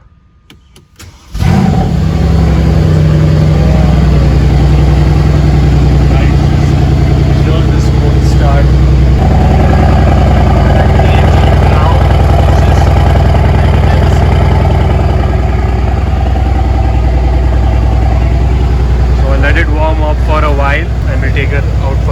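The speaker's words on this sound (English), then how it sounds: "We'll put it to Sports Plus mode so the exhausts also open up" A Mercedes-AMG C63s engine fires up with a loud starter burst and roar, then settles into a steady, deep, rumbling idle through its Sports Plus open exhaust, close and constant for the rest of the clip.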